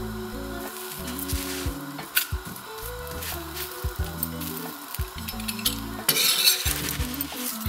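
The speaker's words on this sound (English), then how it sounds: "get some ghee and spread it across one side" Ghee on a paratha in a hot pan gives a soft, steady sizzle while a utensil scrapes and spreads it, with intermittent clinks of metal against the pan, close and fairly quiet.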